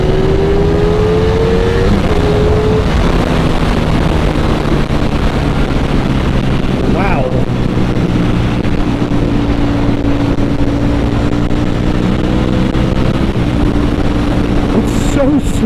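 A Ducati Panigale V4 motorcycle accelerating in third gear, a loud, steady engine drone rising smoothly in pitch under wind roar throughout.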